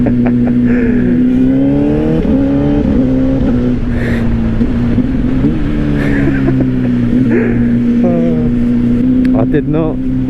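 Inline-four engine of a 2025 Honda CBR600RR motorcycle, a loud close drone with several quick throttle blips rising and falling in pitch, while a rider talks over it.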